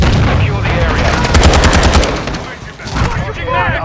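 Rapid automatic fire from an ISO Hemlock rifle in a military video game, a loud, dense run of shots with booming impacts and radio-style callouts mixed in, the bursts pausing briefly before resuming.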